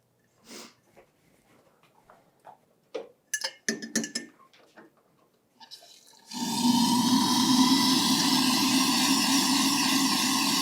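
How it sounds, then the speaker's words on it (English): Warm water pours steadily into a jar to dissolve salt for sour pickle brine, a continuous rushing pour after a few clinks and handling sounds. "I'm going to add a little bit of warm water to dissolve all that salt"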